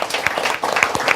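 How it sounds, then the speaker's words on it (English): Audience applause at a hospitality industry panel discussion in England, a short burst of steady clapping from a crowd filling the room at even loudness throughout. "Give them all a round of applause."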